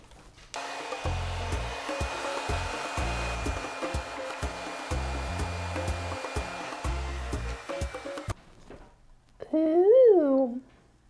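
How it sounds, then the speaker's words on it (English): A blow dryer runs at a steady, loud whir for about eight seconds while drying paint on a DIY fake cake made with spackle, then cuts off abruptly; a brief voice is heard afterward. "We're gonna use a blow dryer"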